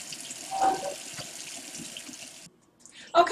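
Water runs from a kitchen tap into a cup, a steady splashing flow for a couple of seconds that cuts off abruptly, followed by a short clink and rustle nearby.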